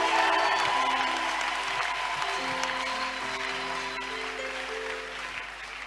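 A church congregation claps and cheers in sustained, fairly loud applause that tapers slightly toward the end, with voices calling out amid the clapping.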